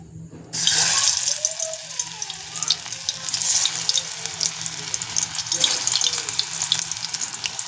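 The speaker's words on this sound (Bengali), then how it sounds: "তো আমি বিটের পকোড়াগুলো এবারে ছেড়ে দেব।" Beet pakoras are dropped into hot oil in a kadai. A loud, steady bubbling sizzle starts abruptly and continues close up, with small crackles and no talk.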